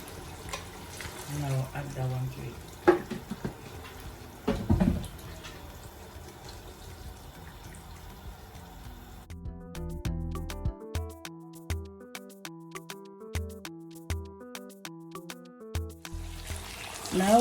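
Water runs and splashes while a blender is rinsed in a home kitchen during a gizzard and vegetable recipe, a steady trickle with clinks, and a person speaks over parts of it.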